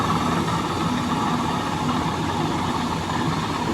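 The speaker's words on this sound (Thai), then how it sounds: "เครื่องยนต์ใหญ่นะ" A heavy rotary tiller tractor engine drones steadily at a constant pitch, loud and close, with no other sounds breaking through.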